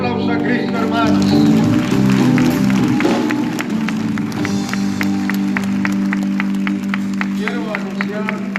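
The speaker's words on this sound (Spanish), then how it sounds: "Denle un aplauso a Cristo, hermanos." A church congregation claps and cheers during a service, a swell of applause with crowd noise under a speaking voice, fading into scattered rhythmic clapping.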